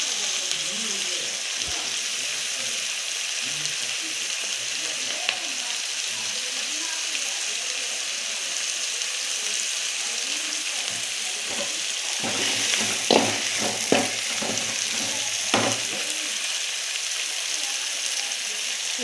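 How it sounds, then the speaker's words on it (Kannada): Onions frying in a pan for rava upma give a steady, loud sizzle throughout, with a few brief bursts of stirring near the end. "ಸ್ವಲ್ಪ ಫ್ರೈ ಆಗಲಿ. ಜಾಸ್ತಿ ಫ್ರೈ ಮಾಡಬೇಡಿ ಫ್ರೆಂಡ್ಸ್ ಈರುಳ್ಳಿನ."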